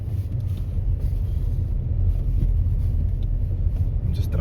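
A car rolls through the streets of Langa in Cape Town, with a steady, moderately loud low rumble of engine and road noise and faint traffic sounds, no talking over it.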